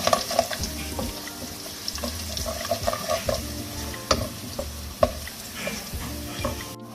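Whole garam masala and whole dried red chillies fry in hot oil for mash dal, crackling and popping with a steady sizzle while a spoon scrapes and knocks against the pan.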